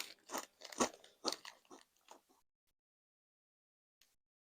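Crisp crunching and chewing of Doritos 3D ultra-crunchy chili and nacho cheese chips, a close run of loud bites and chews that fades out, followed by a brief quiet and a faint last crunch.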